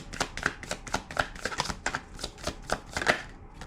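Tarot cards are shuffled and drawn during a reading, a steady run of soft riffling flicks and slaps repeating quickly and close by, with no talking.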